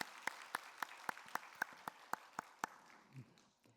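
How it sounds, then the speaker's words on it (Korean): Church congregation at a Wednesday service applauding Sunday school teachers, a short round of sparse, evenly spaced claps that fades out after a few seconds. "우리 다시 한번 박수해 드릴까요?"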